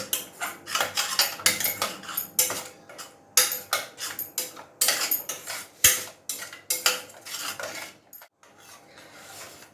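A metal spoon stirs ground masala through a hot pan of paste, producing close, rhythmic scraping and clinking strokes that repeat steadily before fading out near the end.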